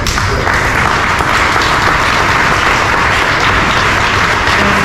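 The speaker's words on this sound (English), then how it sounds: "we need to give Bob Berger a round of applause" Sustained applause from an audience at a library evening event fills the whole stretch, loud and dense with steady clapping and no pauses.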